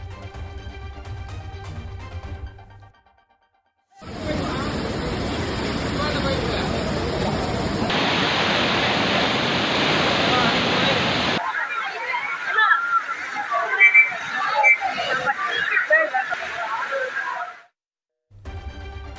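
Floodwater surging over a waterfall, a loud, steady broadband rush that runs for about thirteen seconds and turns rougher and more churning near the end, with short stretches of other sound before and after.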